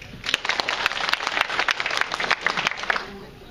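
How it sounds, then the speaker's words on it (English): Audience at a church talent show breaks into applause on cue, a dense burst of many hands clapping that swells and stays steady for a few seconds before tapering off. "when I go like this, everybody applaud"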